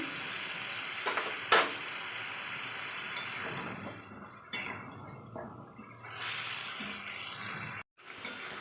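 Ginger, garlic, green chilli and tomato with a little sugar frying in oil in a pan, a soft steady sizzle with occasional clinks and scrapes of a spoon against the pan, close and fairly quiet.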